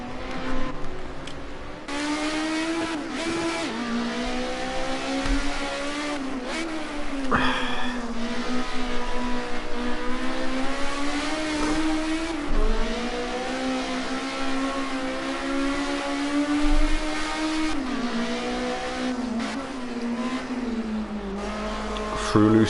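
A Group A touring race car laps Zolder circuit, its engine note rising and falling through gear changes as it passes at speed. The engine stays loud throughout, and a commentator talks over it.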